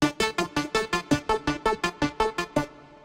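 Synthesizer solo in an Oberheim style with resonant filters, from an 80s-style production: a fast, even run of about fifteen bright, punchy plucked notes with strong harmonics, loud and close, with no voices.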